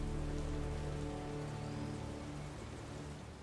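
Steady, dense rain falls in the Spider-Man PS4 video game, a loud continuous hiss of drops hitting surfaces, easing slightly toward the end with no voices.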